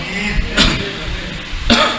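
Two short, harsh coughs about a second apart, close to the listener, over a low background hum.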